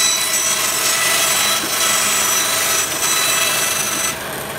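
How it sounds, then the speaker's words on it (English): A large sheet of plywood being cut into pieces for crank organ feeder bellows gives a loud, steady power-saw roar that holds for about four seconds, then drops off abruptly. "I'm taking this large piece of plywood and cutting it down into the two upper halves of the feeder bellows"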